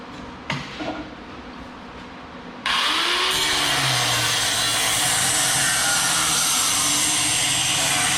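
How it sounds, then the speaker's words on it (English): After a brief knock and a quiet stretch, a cut-off wheel bites into metal for a junk lamp project, followed by loud continuous grinding and hissing that runs steadily to the end. "I'll use my cut-off wheel rather than the saw."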